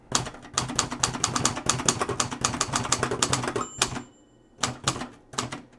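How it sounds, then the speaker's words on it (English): Rapid mechanical clacks of an antique Royal manual typewriter, fast and steady for several seconds, then a short pause and a few more keystrokes. "It's been a while since I've typed in a manual typewriter before."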